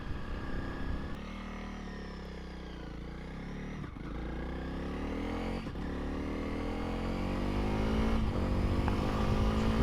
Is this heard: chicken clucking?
no